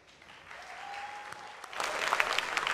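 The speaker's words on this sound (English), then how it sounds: "A big round of applause for Zoya." An audience at a fireside chat breaks into applause that starts softly and swells into dense, sustained clapping, with a faint tone heard underneath.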